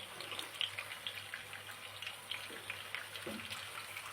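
Hot water is poured into a cooking pot while a peas and lamb stew is being made, a faint, continuous splashing trickle with a few brief bubbling gurgles, fairly soft and without talking.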